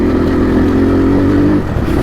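A motorcycle engine drones steadily while being ridden, a loud, close, low hum holding an even pitch throughout, with no speech.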